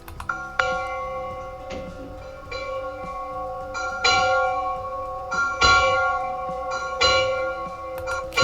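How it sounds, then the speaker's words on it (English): An AI-generated doorbell ring that comes out like a cowbell: bright metallic clanks strike repeatedly in an uneven rhythm, each with a ringing tonal decay, fairly loud and close with no voices. "Okay, that was almost a cowbell."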